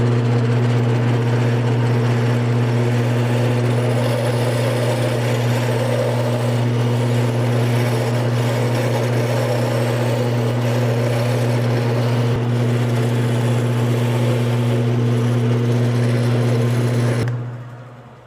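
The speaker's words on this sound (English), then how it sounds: "for the video we speeded up all of those sections where I was lathing" A wood lathe spins while a wooden mallet is turned in a woodshop, a steady, loud mechanical hum with strong low tonal whine that runs unbroken for the whole stretch before cutting off abruptly near the end.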